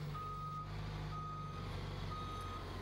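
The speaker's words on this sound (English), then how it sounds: "This dump truck behind me holds 15 tons of soil." Steady reversing beeps from a 15-ton dump truck loaded with soil, repeating at an even rhythm over a constant low engine rumble, fairly close and alone with no talk.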